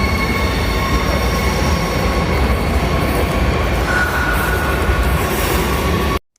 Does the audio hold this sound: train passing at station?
yes